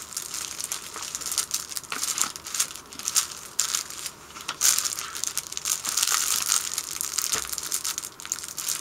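A package holding a fan-club uniform is torn open, with close, loud crinkling and crushing of plastic wrapping in irregular bursts of tearing and rustling, no talk over it.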